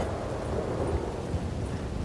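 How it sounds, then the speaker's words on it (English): A low, rolling rumble of thunder with a wash of wind and rain-like noise, continuous and fairly loud throughout, from the video game Red Dead. "Holy shit, the lightning struck in front of me."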